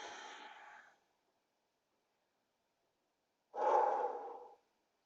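Two slow, deep breaths during yoga practice, a long exhale, a pause of near silence, then a fuller, louder breath, close and unaccompanied.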